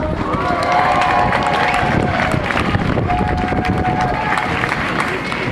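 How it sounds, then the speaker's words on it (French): Crowd applauding and cheering at an outdoor student protest against tuition hikes, a loud continuous wash of clapping and voices with some whistles, steady throughout. "je vous demanderai d'applaudir bien fort Mme Marie Malavoie"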